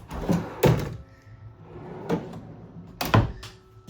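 Pull-out drawers in a camper trailer slide and thud as they are pulled open and pushed shut several times, close by, with rolling runner noise between the knocks.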